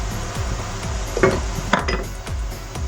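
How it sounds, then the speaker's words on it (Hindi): Metal spoon clinks and scrapes against a pan as ginger and garlic go into onions cooking in ghee, a series of close, sharp taps and stirring scrapes over a low sizzle. "प्याज में अदरक लहसुन डालेंगे"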